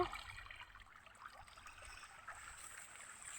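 Irrigation water flows into a sorghum field, a faint, steady trickling and gurgling stream with no voices.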